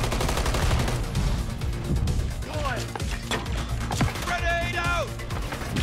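Sustained gunfire in the Modern Warfare 3 video game, rapid shots and bursts with impacts over background game music, close and busy, with voices partly mixed in.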